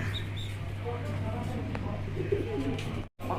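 Fancy racer pigeons cooing in a dealer's loft, soft low coos under a constant hum and background noise, with faint voices nearby.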